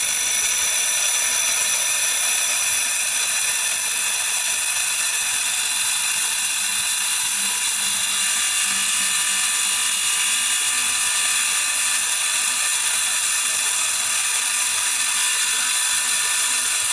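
A steel chisel being ground flat on a bench grinder's abrasive wheel: a loud, steady high-pitched hiss and whine from the spinning stone that holds constant for the whole stretch, with no voice over it.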